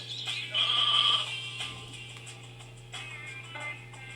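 Sheep bleating in the video game Sheep, Dog 'n' Wolf, a bright wavering bleat rising near the start and fading, followed by fainter bleats later over a steady low game hum.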